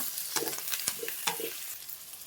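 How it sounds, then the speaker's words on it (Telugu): Curry leaves, coriander and mint fry in hot oil for vermicelli upma, giving a quiet sizzle broken by a few sharp stirring clinks and scrapes of a spoon against the pan. "ఈ కరివేపాకు, కొత్తిమీర, పుదీనా కూడా వేసేసుకుందాము ఫ్రెండ్స్. ఇలా ఇవన్నీ ఆయిల్లో ఫ్రై అవ్వాలి."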